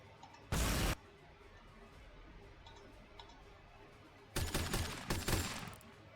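Pistol shots in the Warhammer 40,000: Sanctus Reach strategy game, heard as a short burst of rapid cracks early on and a longer rattling volley near the end, over quiet game ambience.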